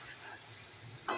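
Egg curry cooks in mustard oil with a soft continuous sizzle, ending in a sudden louder burst of crackling as something hits the hot pan.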